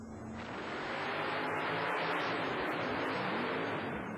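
The Carolina Crusher Chevrolet and First Blood Ford monster trucks race at a 1991 USHRA show in Uniondale, NY, their engines a loud, continuous broadband roar swelling slightly over a few seconds.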